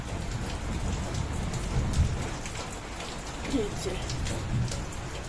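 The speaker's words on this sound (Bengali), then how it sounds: "ওই দেখো বাইরে বৃষ্টি হচ্ছে" Steady rain falls outside a home kitchen during a rainy day, a dense continuous hiss with faint thunder-like rumbles low underneath, no clear speech over it.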